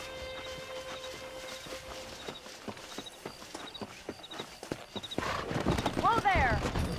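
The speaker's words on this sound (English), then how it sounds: "Let's see if we can't wrangle some horses." Horses in Red Dead Redemption clop steadily along on hooves in a game scene, with a loud whinny near the end and characters talking over the hoofbeats.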